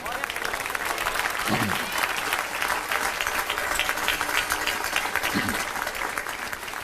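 A church congregation applauds during a Pentecostal worship service, a steady, dense wash of clapping sustained throughout at a moderate distance, with a few brief voices cutting through.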